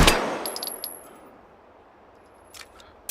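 A single loud gunshot from a pistol in the VR shooting game Hot Dogs, Horseshoes & Hand Grenades, a sharp crack at the start with a metallic ring and a decaying tail, then small clinks and another faint clack near the end.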